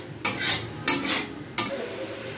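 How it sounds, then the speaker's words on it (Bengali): A spice mixture with garlic paste being stirred and sautéed in a pan for Mughlai chicken handi, with three distinct scraping strokes of a spatula against the pan over a low, constant sizzle. "তো এবার সবগুলো ভালোভাবে একটু কষাতে হবে"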